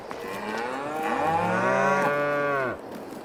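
A cow moos in the Farming Simulator 22 farm game, one long drawn-out bellowing call that swells in the middle and cuts off sharply near the end, alone and fairly close.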